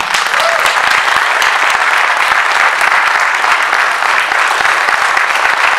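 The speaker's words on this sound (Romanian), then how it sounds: "Aplauze frenetice" A large audience at a Gorj community gathering in the capital applauds enthusiastically, loud, dense and sustained clapping from start to finish.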